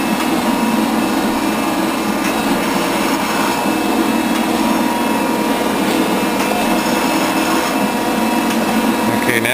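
A milling machine cuts into a steel milling vise being repaired, producing a steady, loud grinding and whirring that runs continuously without pause.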